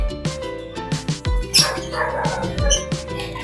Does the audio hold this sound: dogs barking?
yes